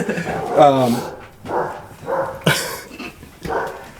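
Several dogs bark in short bursts at close range, with a burst of yips near the start and another sharp bark midway, while people talk between and over them.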